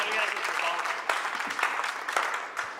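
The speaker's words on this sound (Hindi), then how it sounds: "एक बार इतना अच्छा सुनने वाले श्रोताओं के लिए मैं मंच से तालियां चाहता हूं।" Audience applause at a Hindi hasya kavi sammelan comedy poetry stage show, a dense burst of many hands clapping that holds steady for a few seconds with faint voices underneath.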